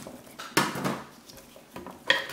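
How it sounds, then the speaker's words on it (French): A knife cuts a carrot in half on a kitchen board, giving a couple of sharp clattering knocks with softer scraping between them, close and fairly quiet. "On prend la carotte, on la coupe au milieu."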